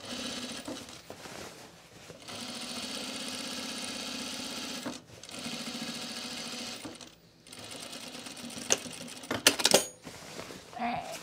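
A sewing machine stitches the inseam of close-fitting stretch pants at a short stitch length, running in steady bursts with a few brief pauses and some small clicks near the end.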